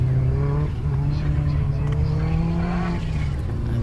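Ford Escort ZVH Turbo race car under steady acceleration, a loud continuous engine drone with rising pitch and a brief lift near the end, close and sustained throughout.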